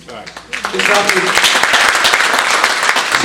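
Audience at a Republican women's candidate forum bursting into applause, a dense, loud clapping that rises quickly after a brief voice and holds steady to the end.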